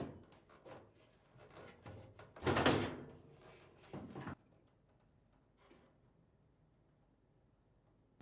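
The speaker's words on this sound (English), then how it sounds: "lift up on the panel to release it from these 2 retaining tabs" Metal top panel of a Samsung dryer being lifted free of its two retaining tabs, giving a couple of nearby clunks and a sharp metallic rattle, then quiet handling noises.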